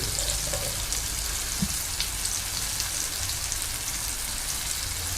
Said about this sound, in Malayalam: നമ്മൾ മാരിനേറ്റ് ചെയ്ത് വെച്ച അയക്കൂറ ഫ്രൈ ചെയ്യാൻ വേണ്ടി വെച്ചിട്ടുണ്ട്